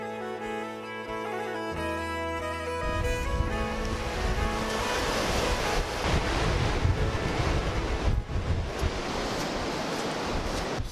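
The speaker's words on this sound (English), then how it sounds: "sometimes you just have to be in awe at the raw power of nature and the waves crashing on the rocks." Powerful waves crash and surge against rocks on the Causeway Coast near Portrush, a loud, continuous roar of churning surf with wind buffeting the microphone and no talk.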